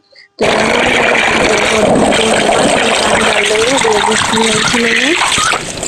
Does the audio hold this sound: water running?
yes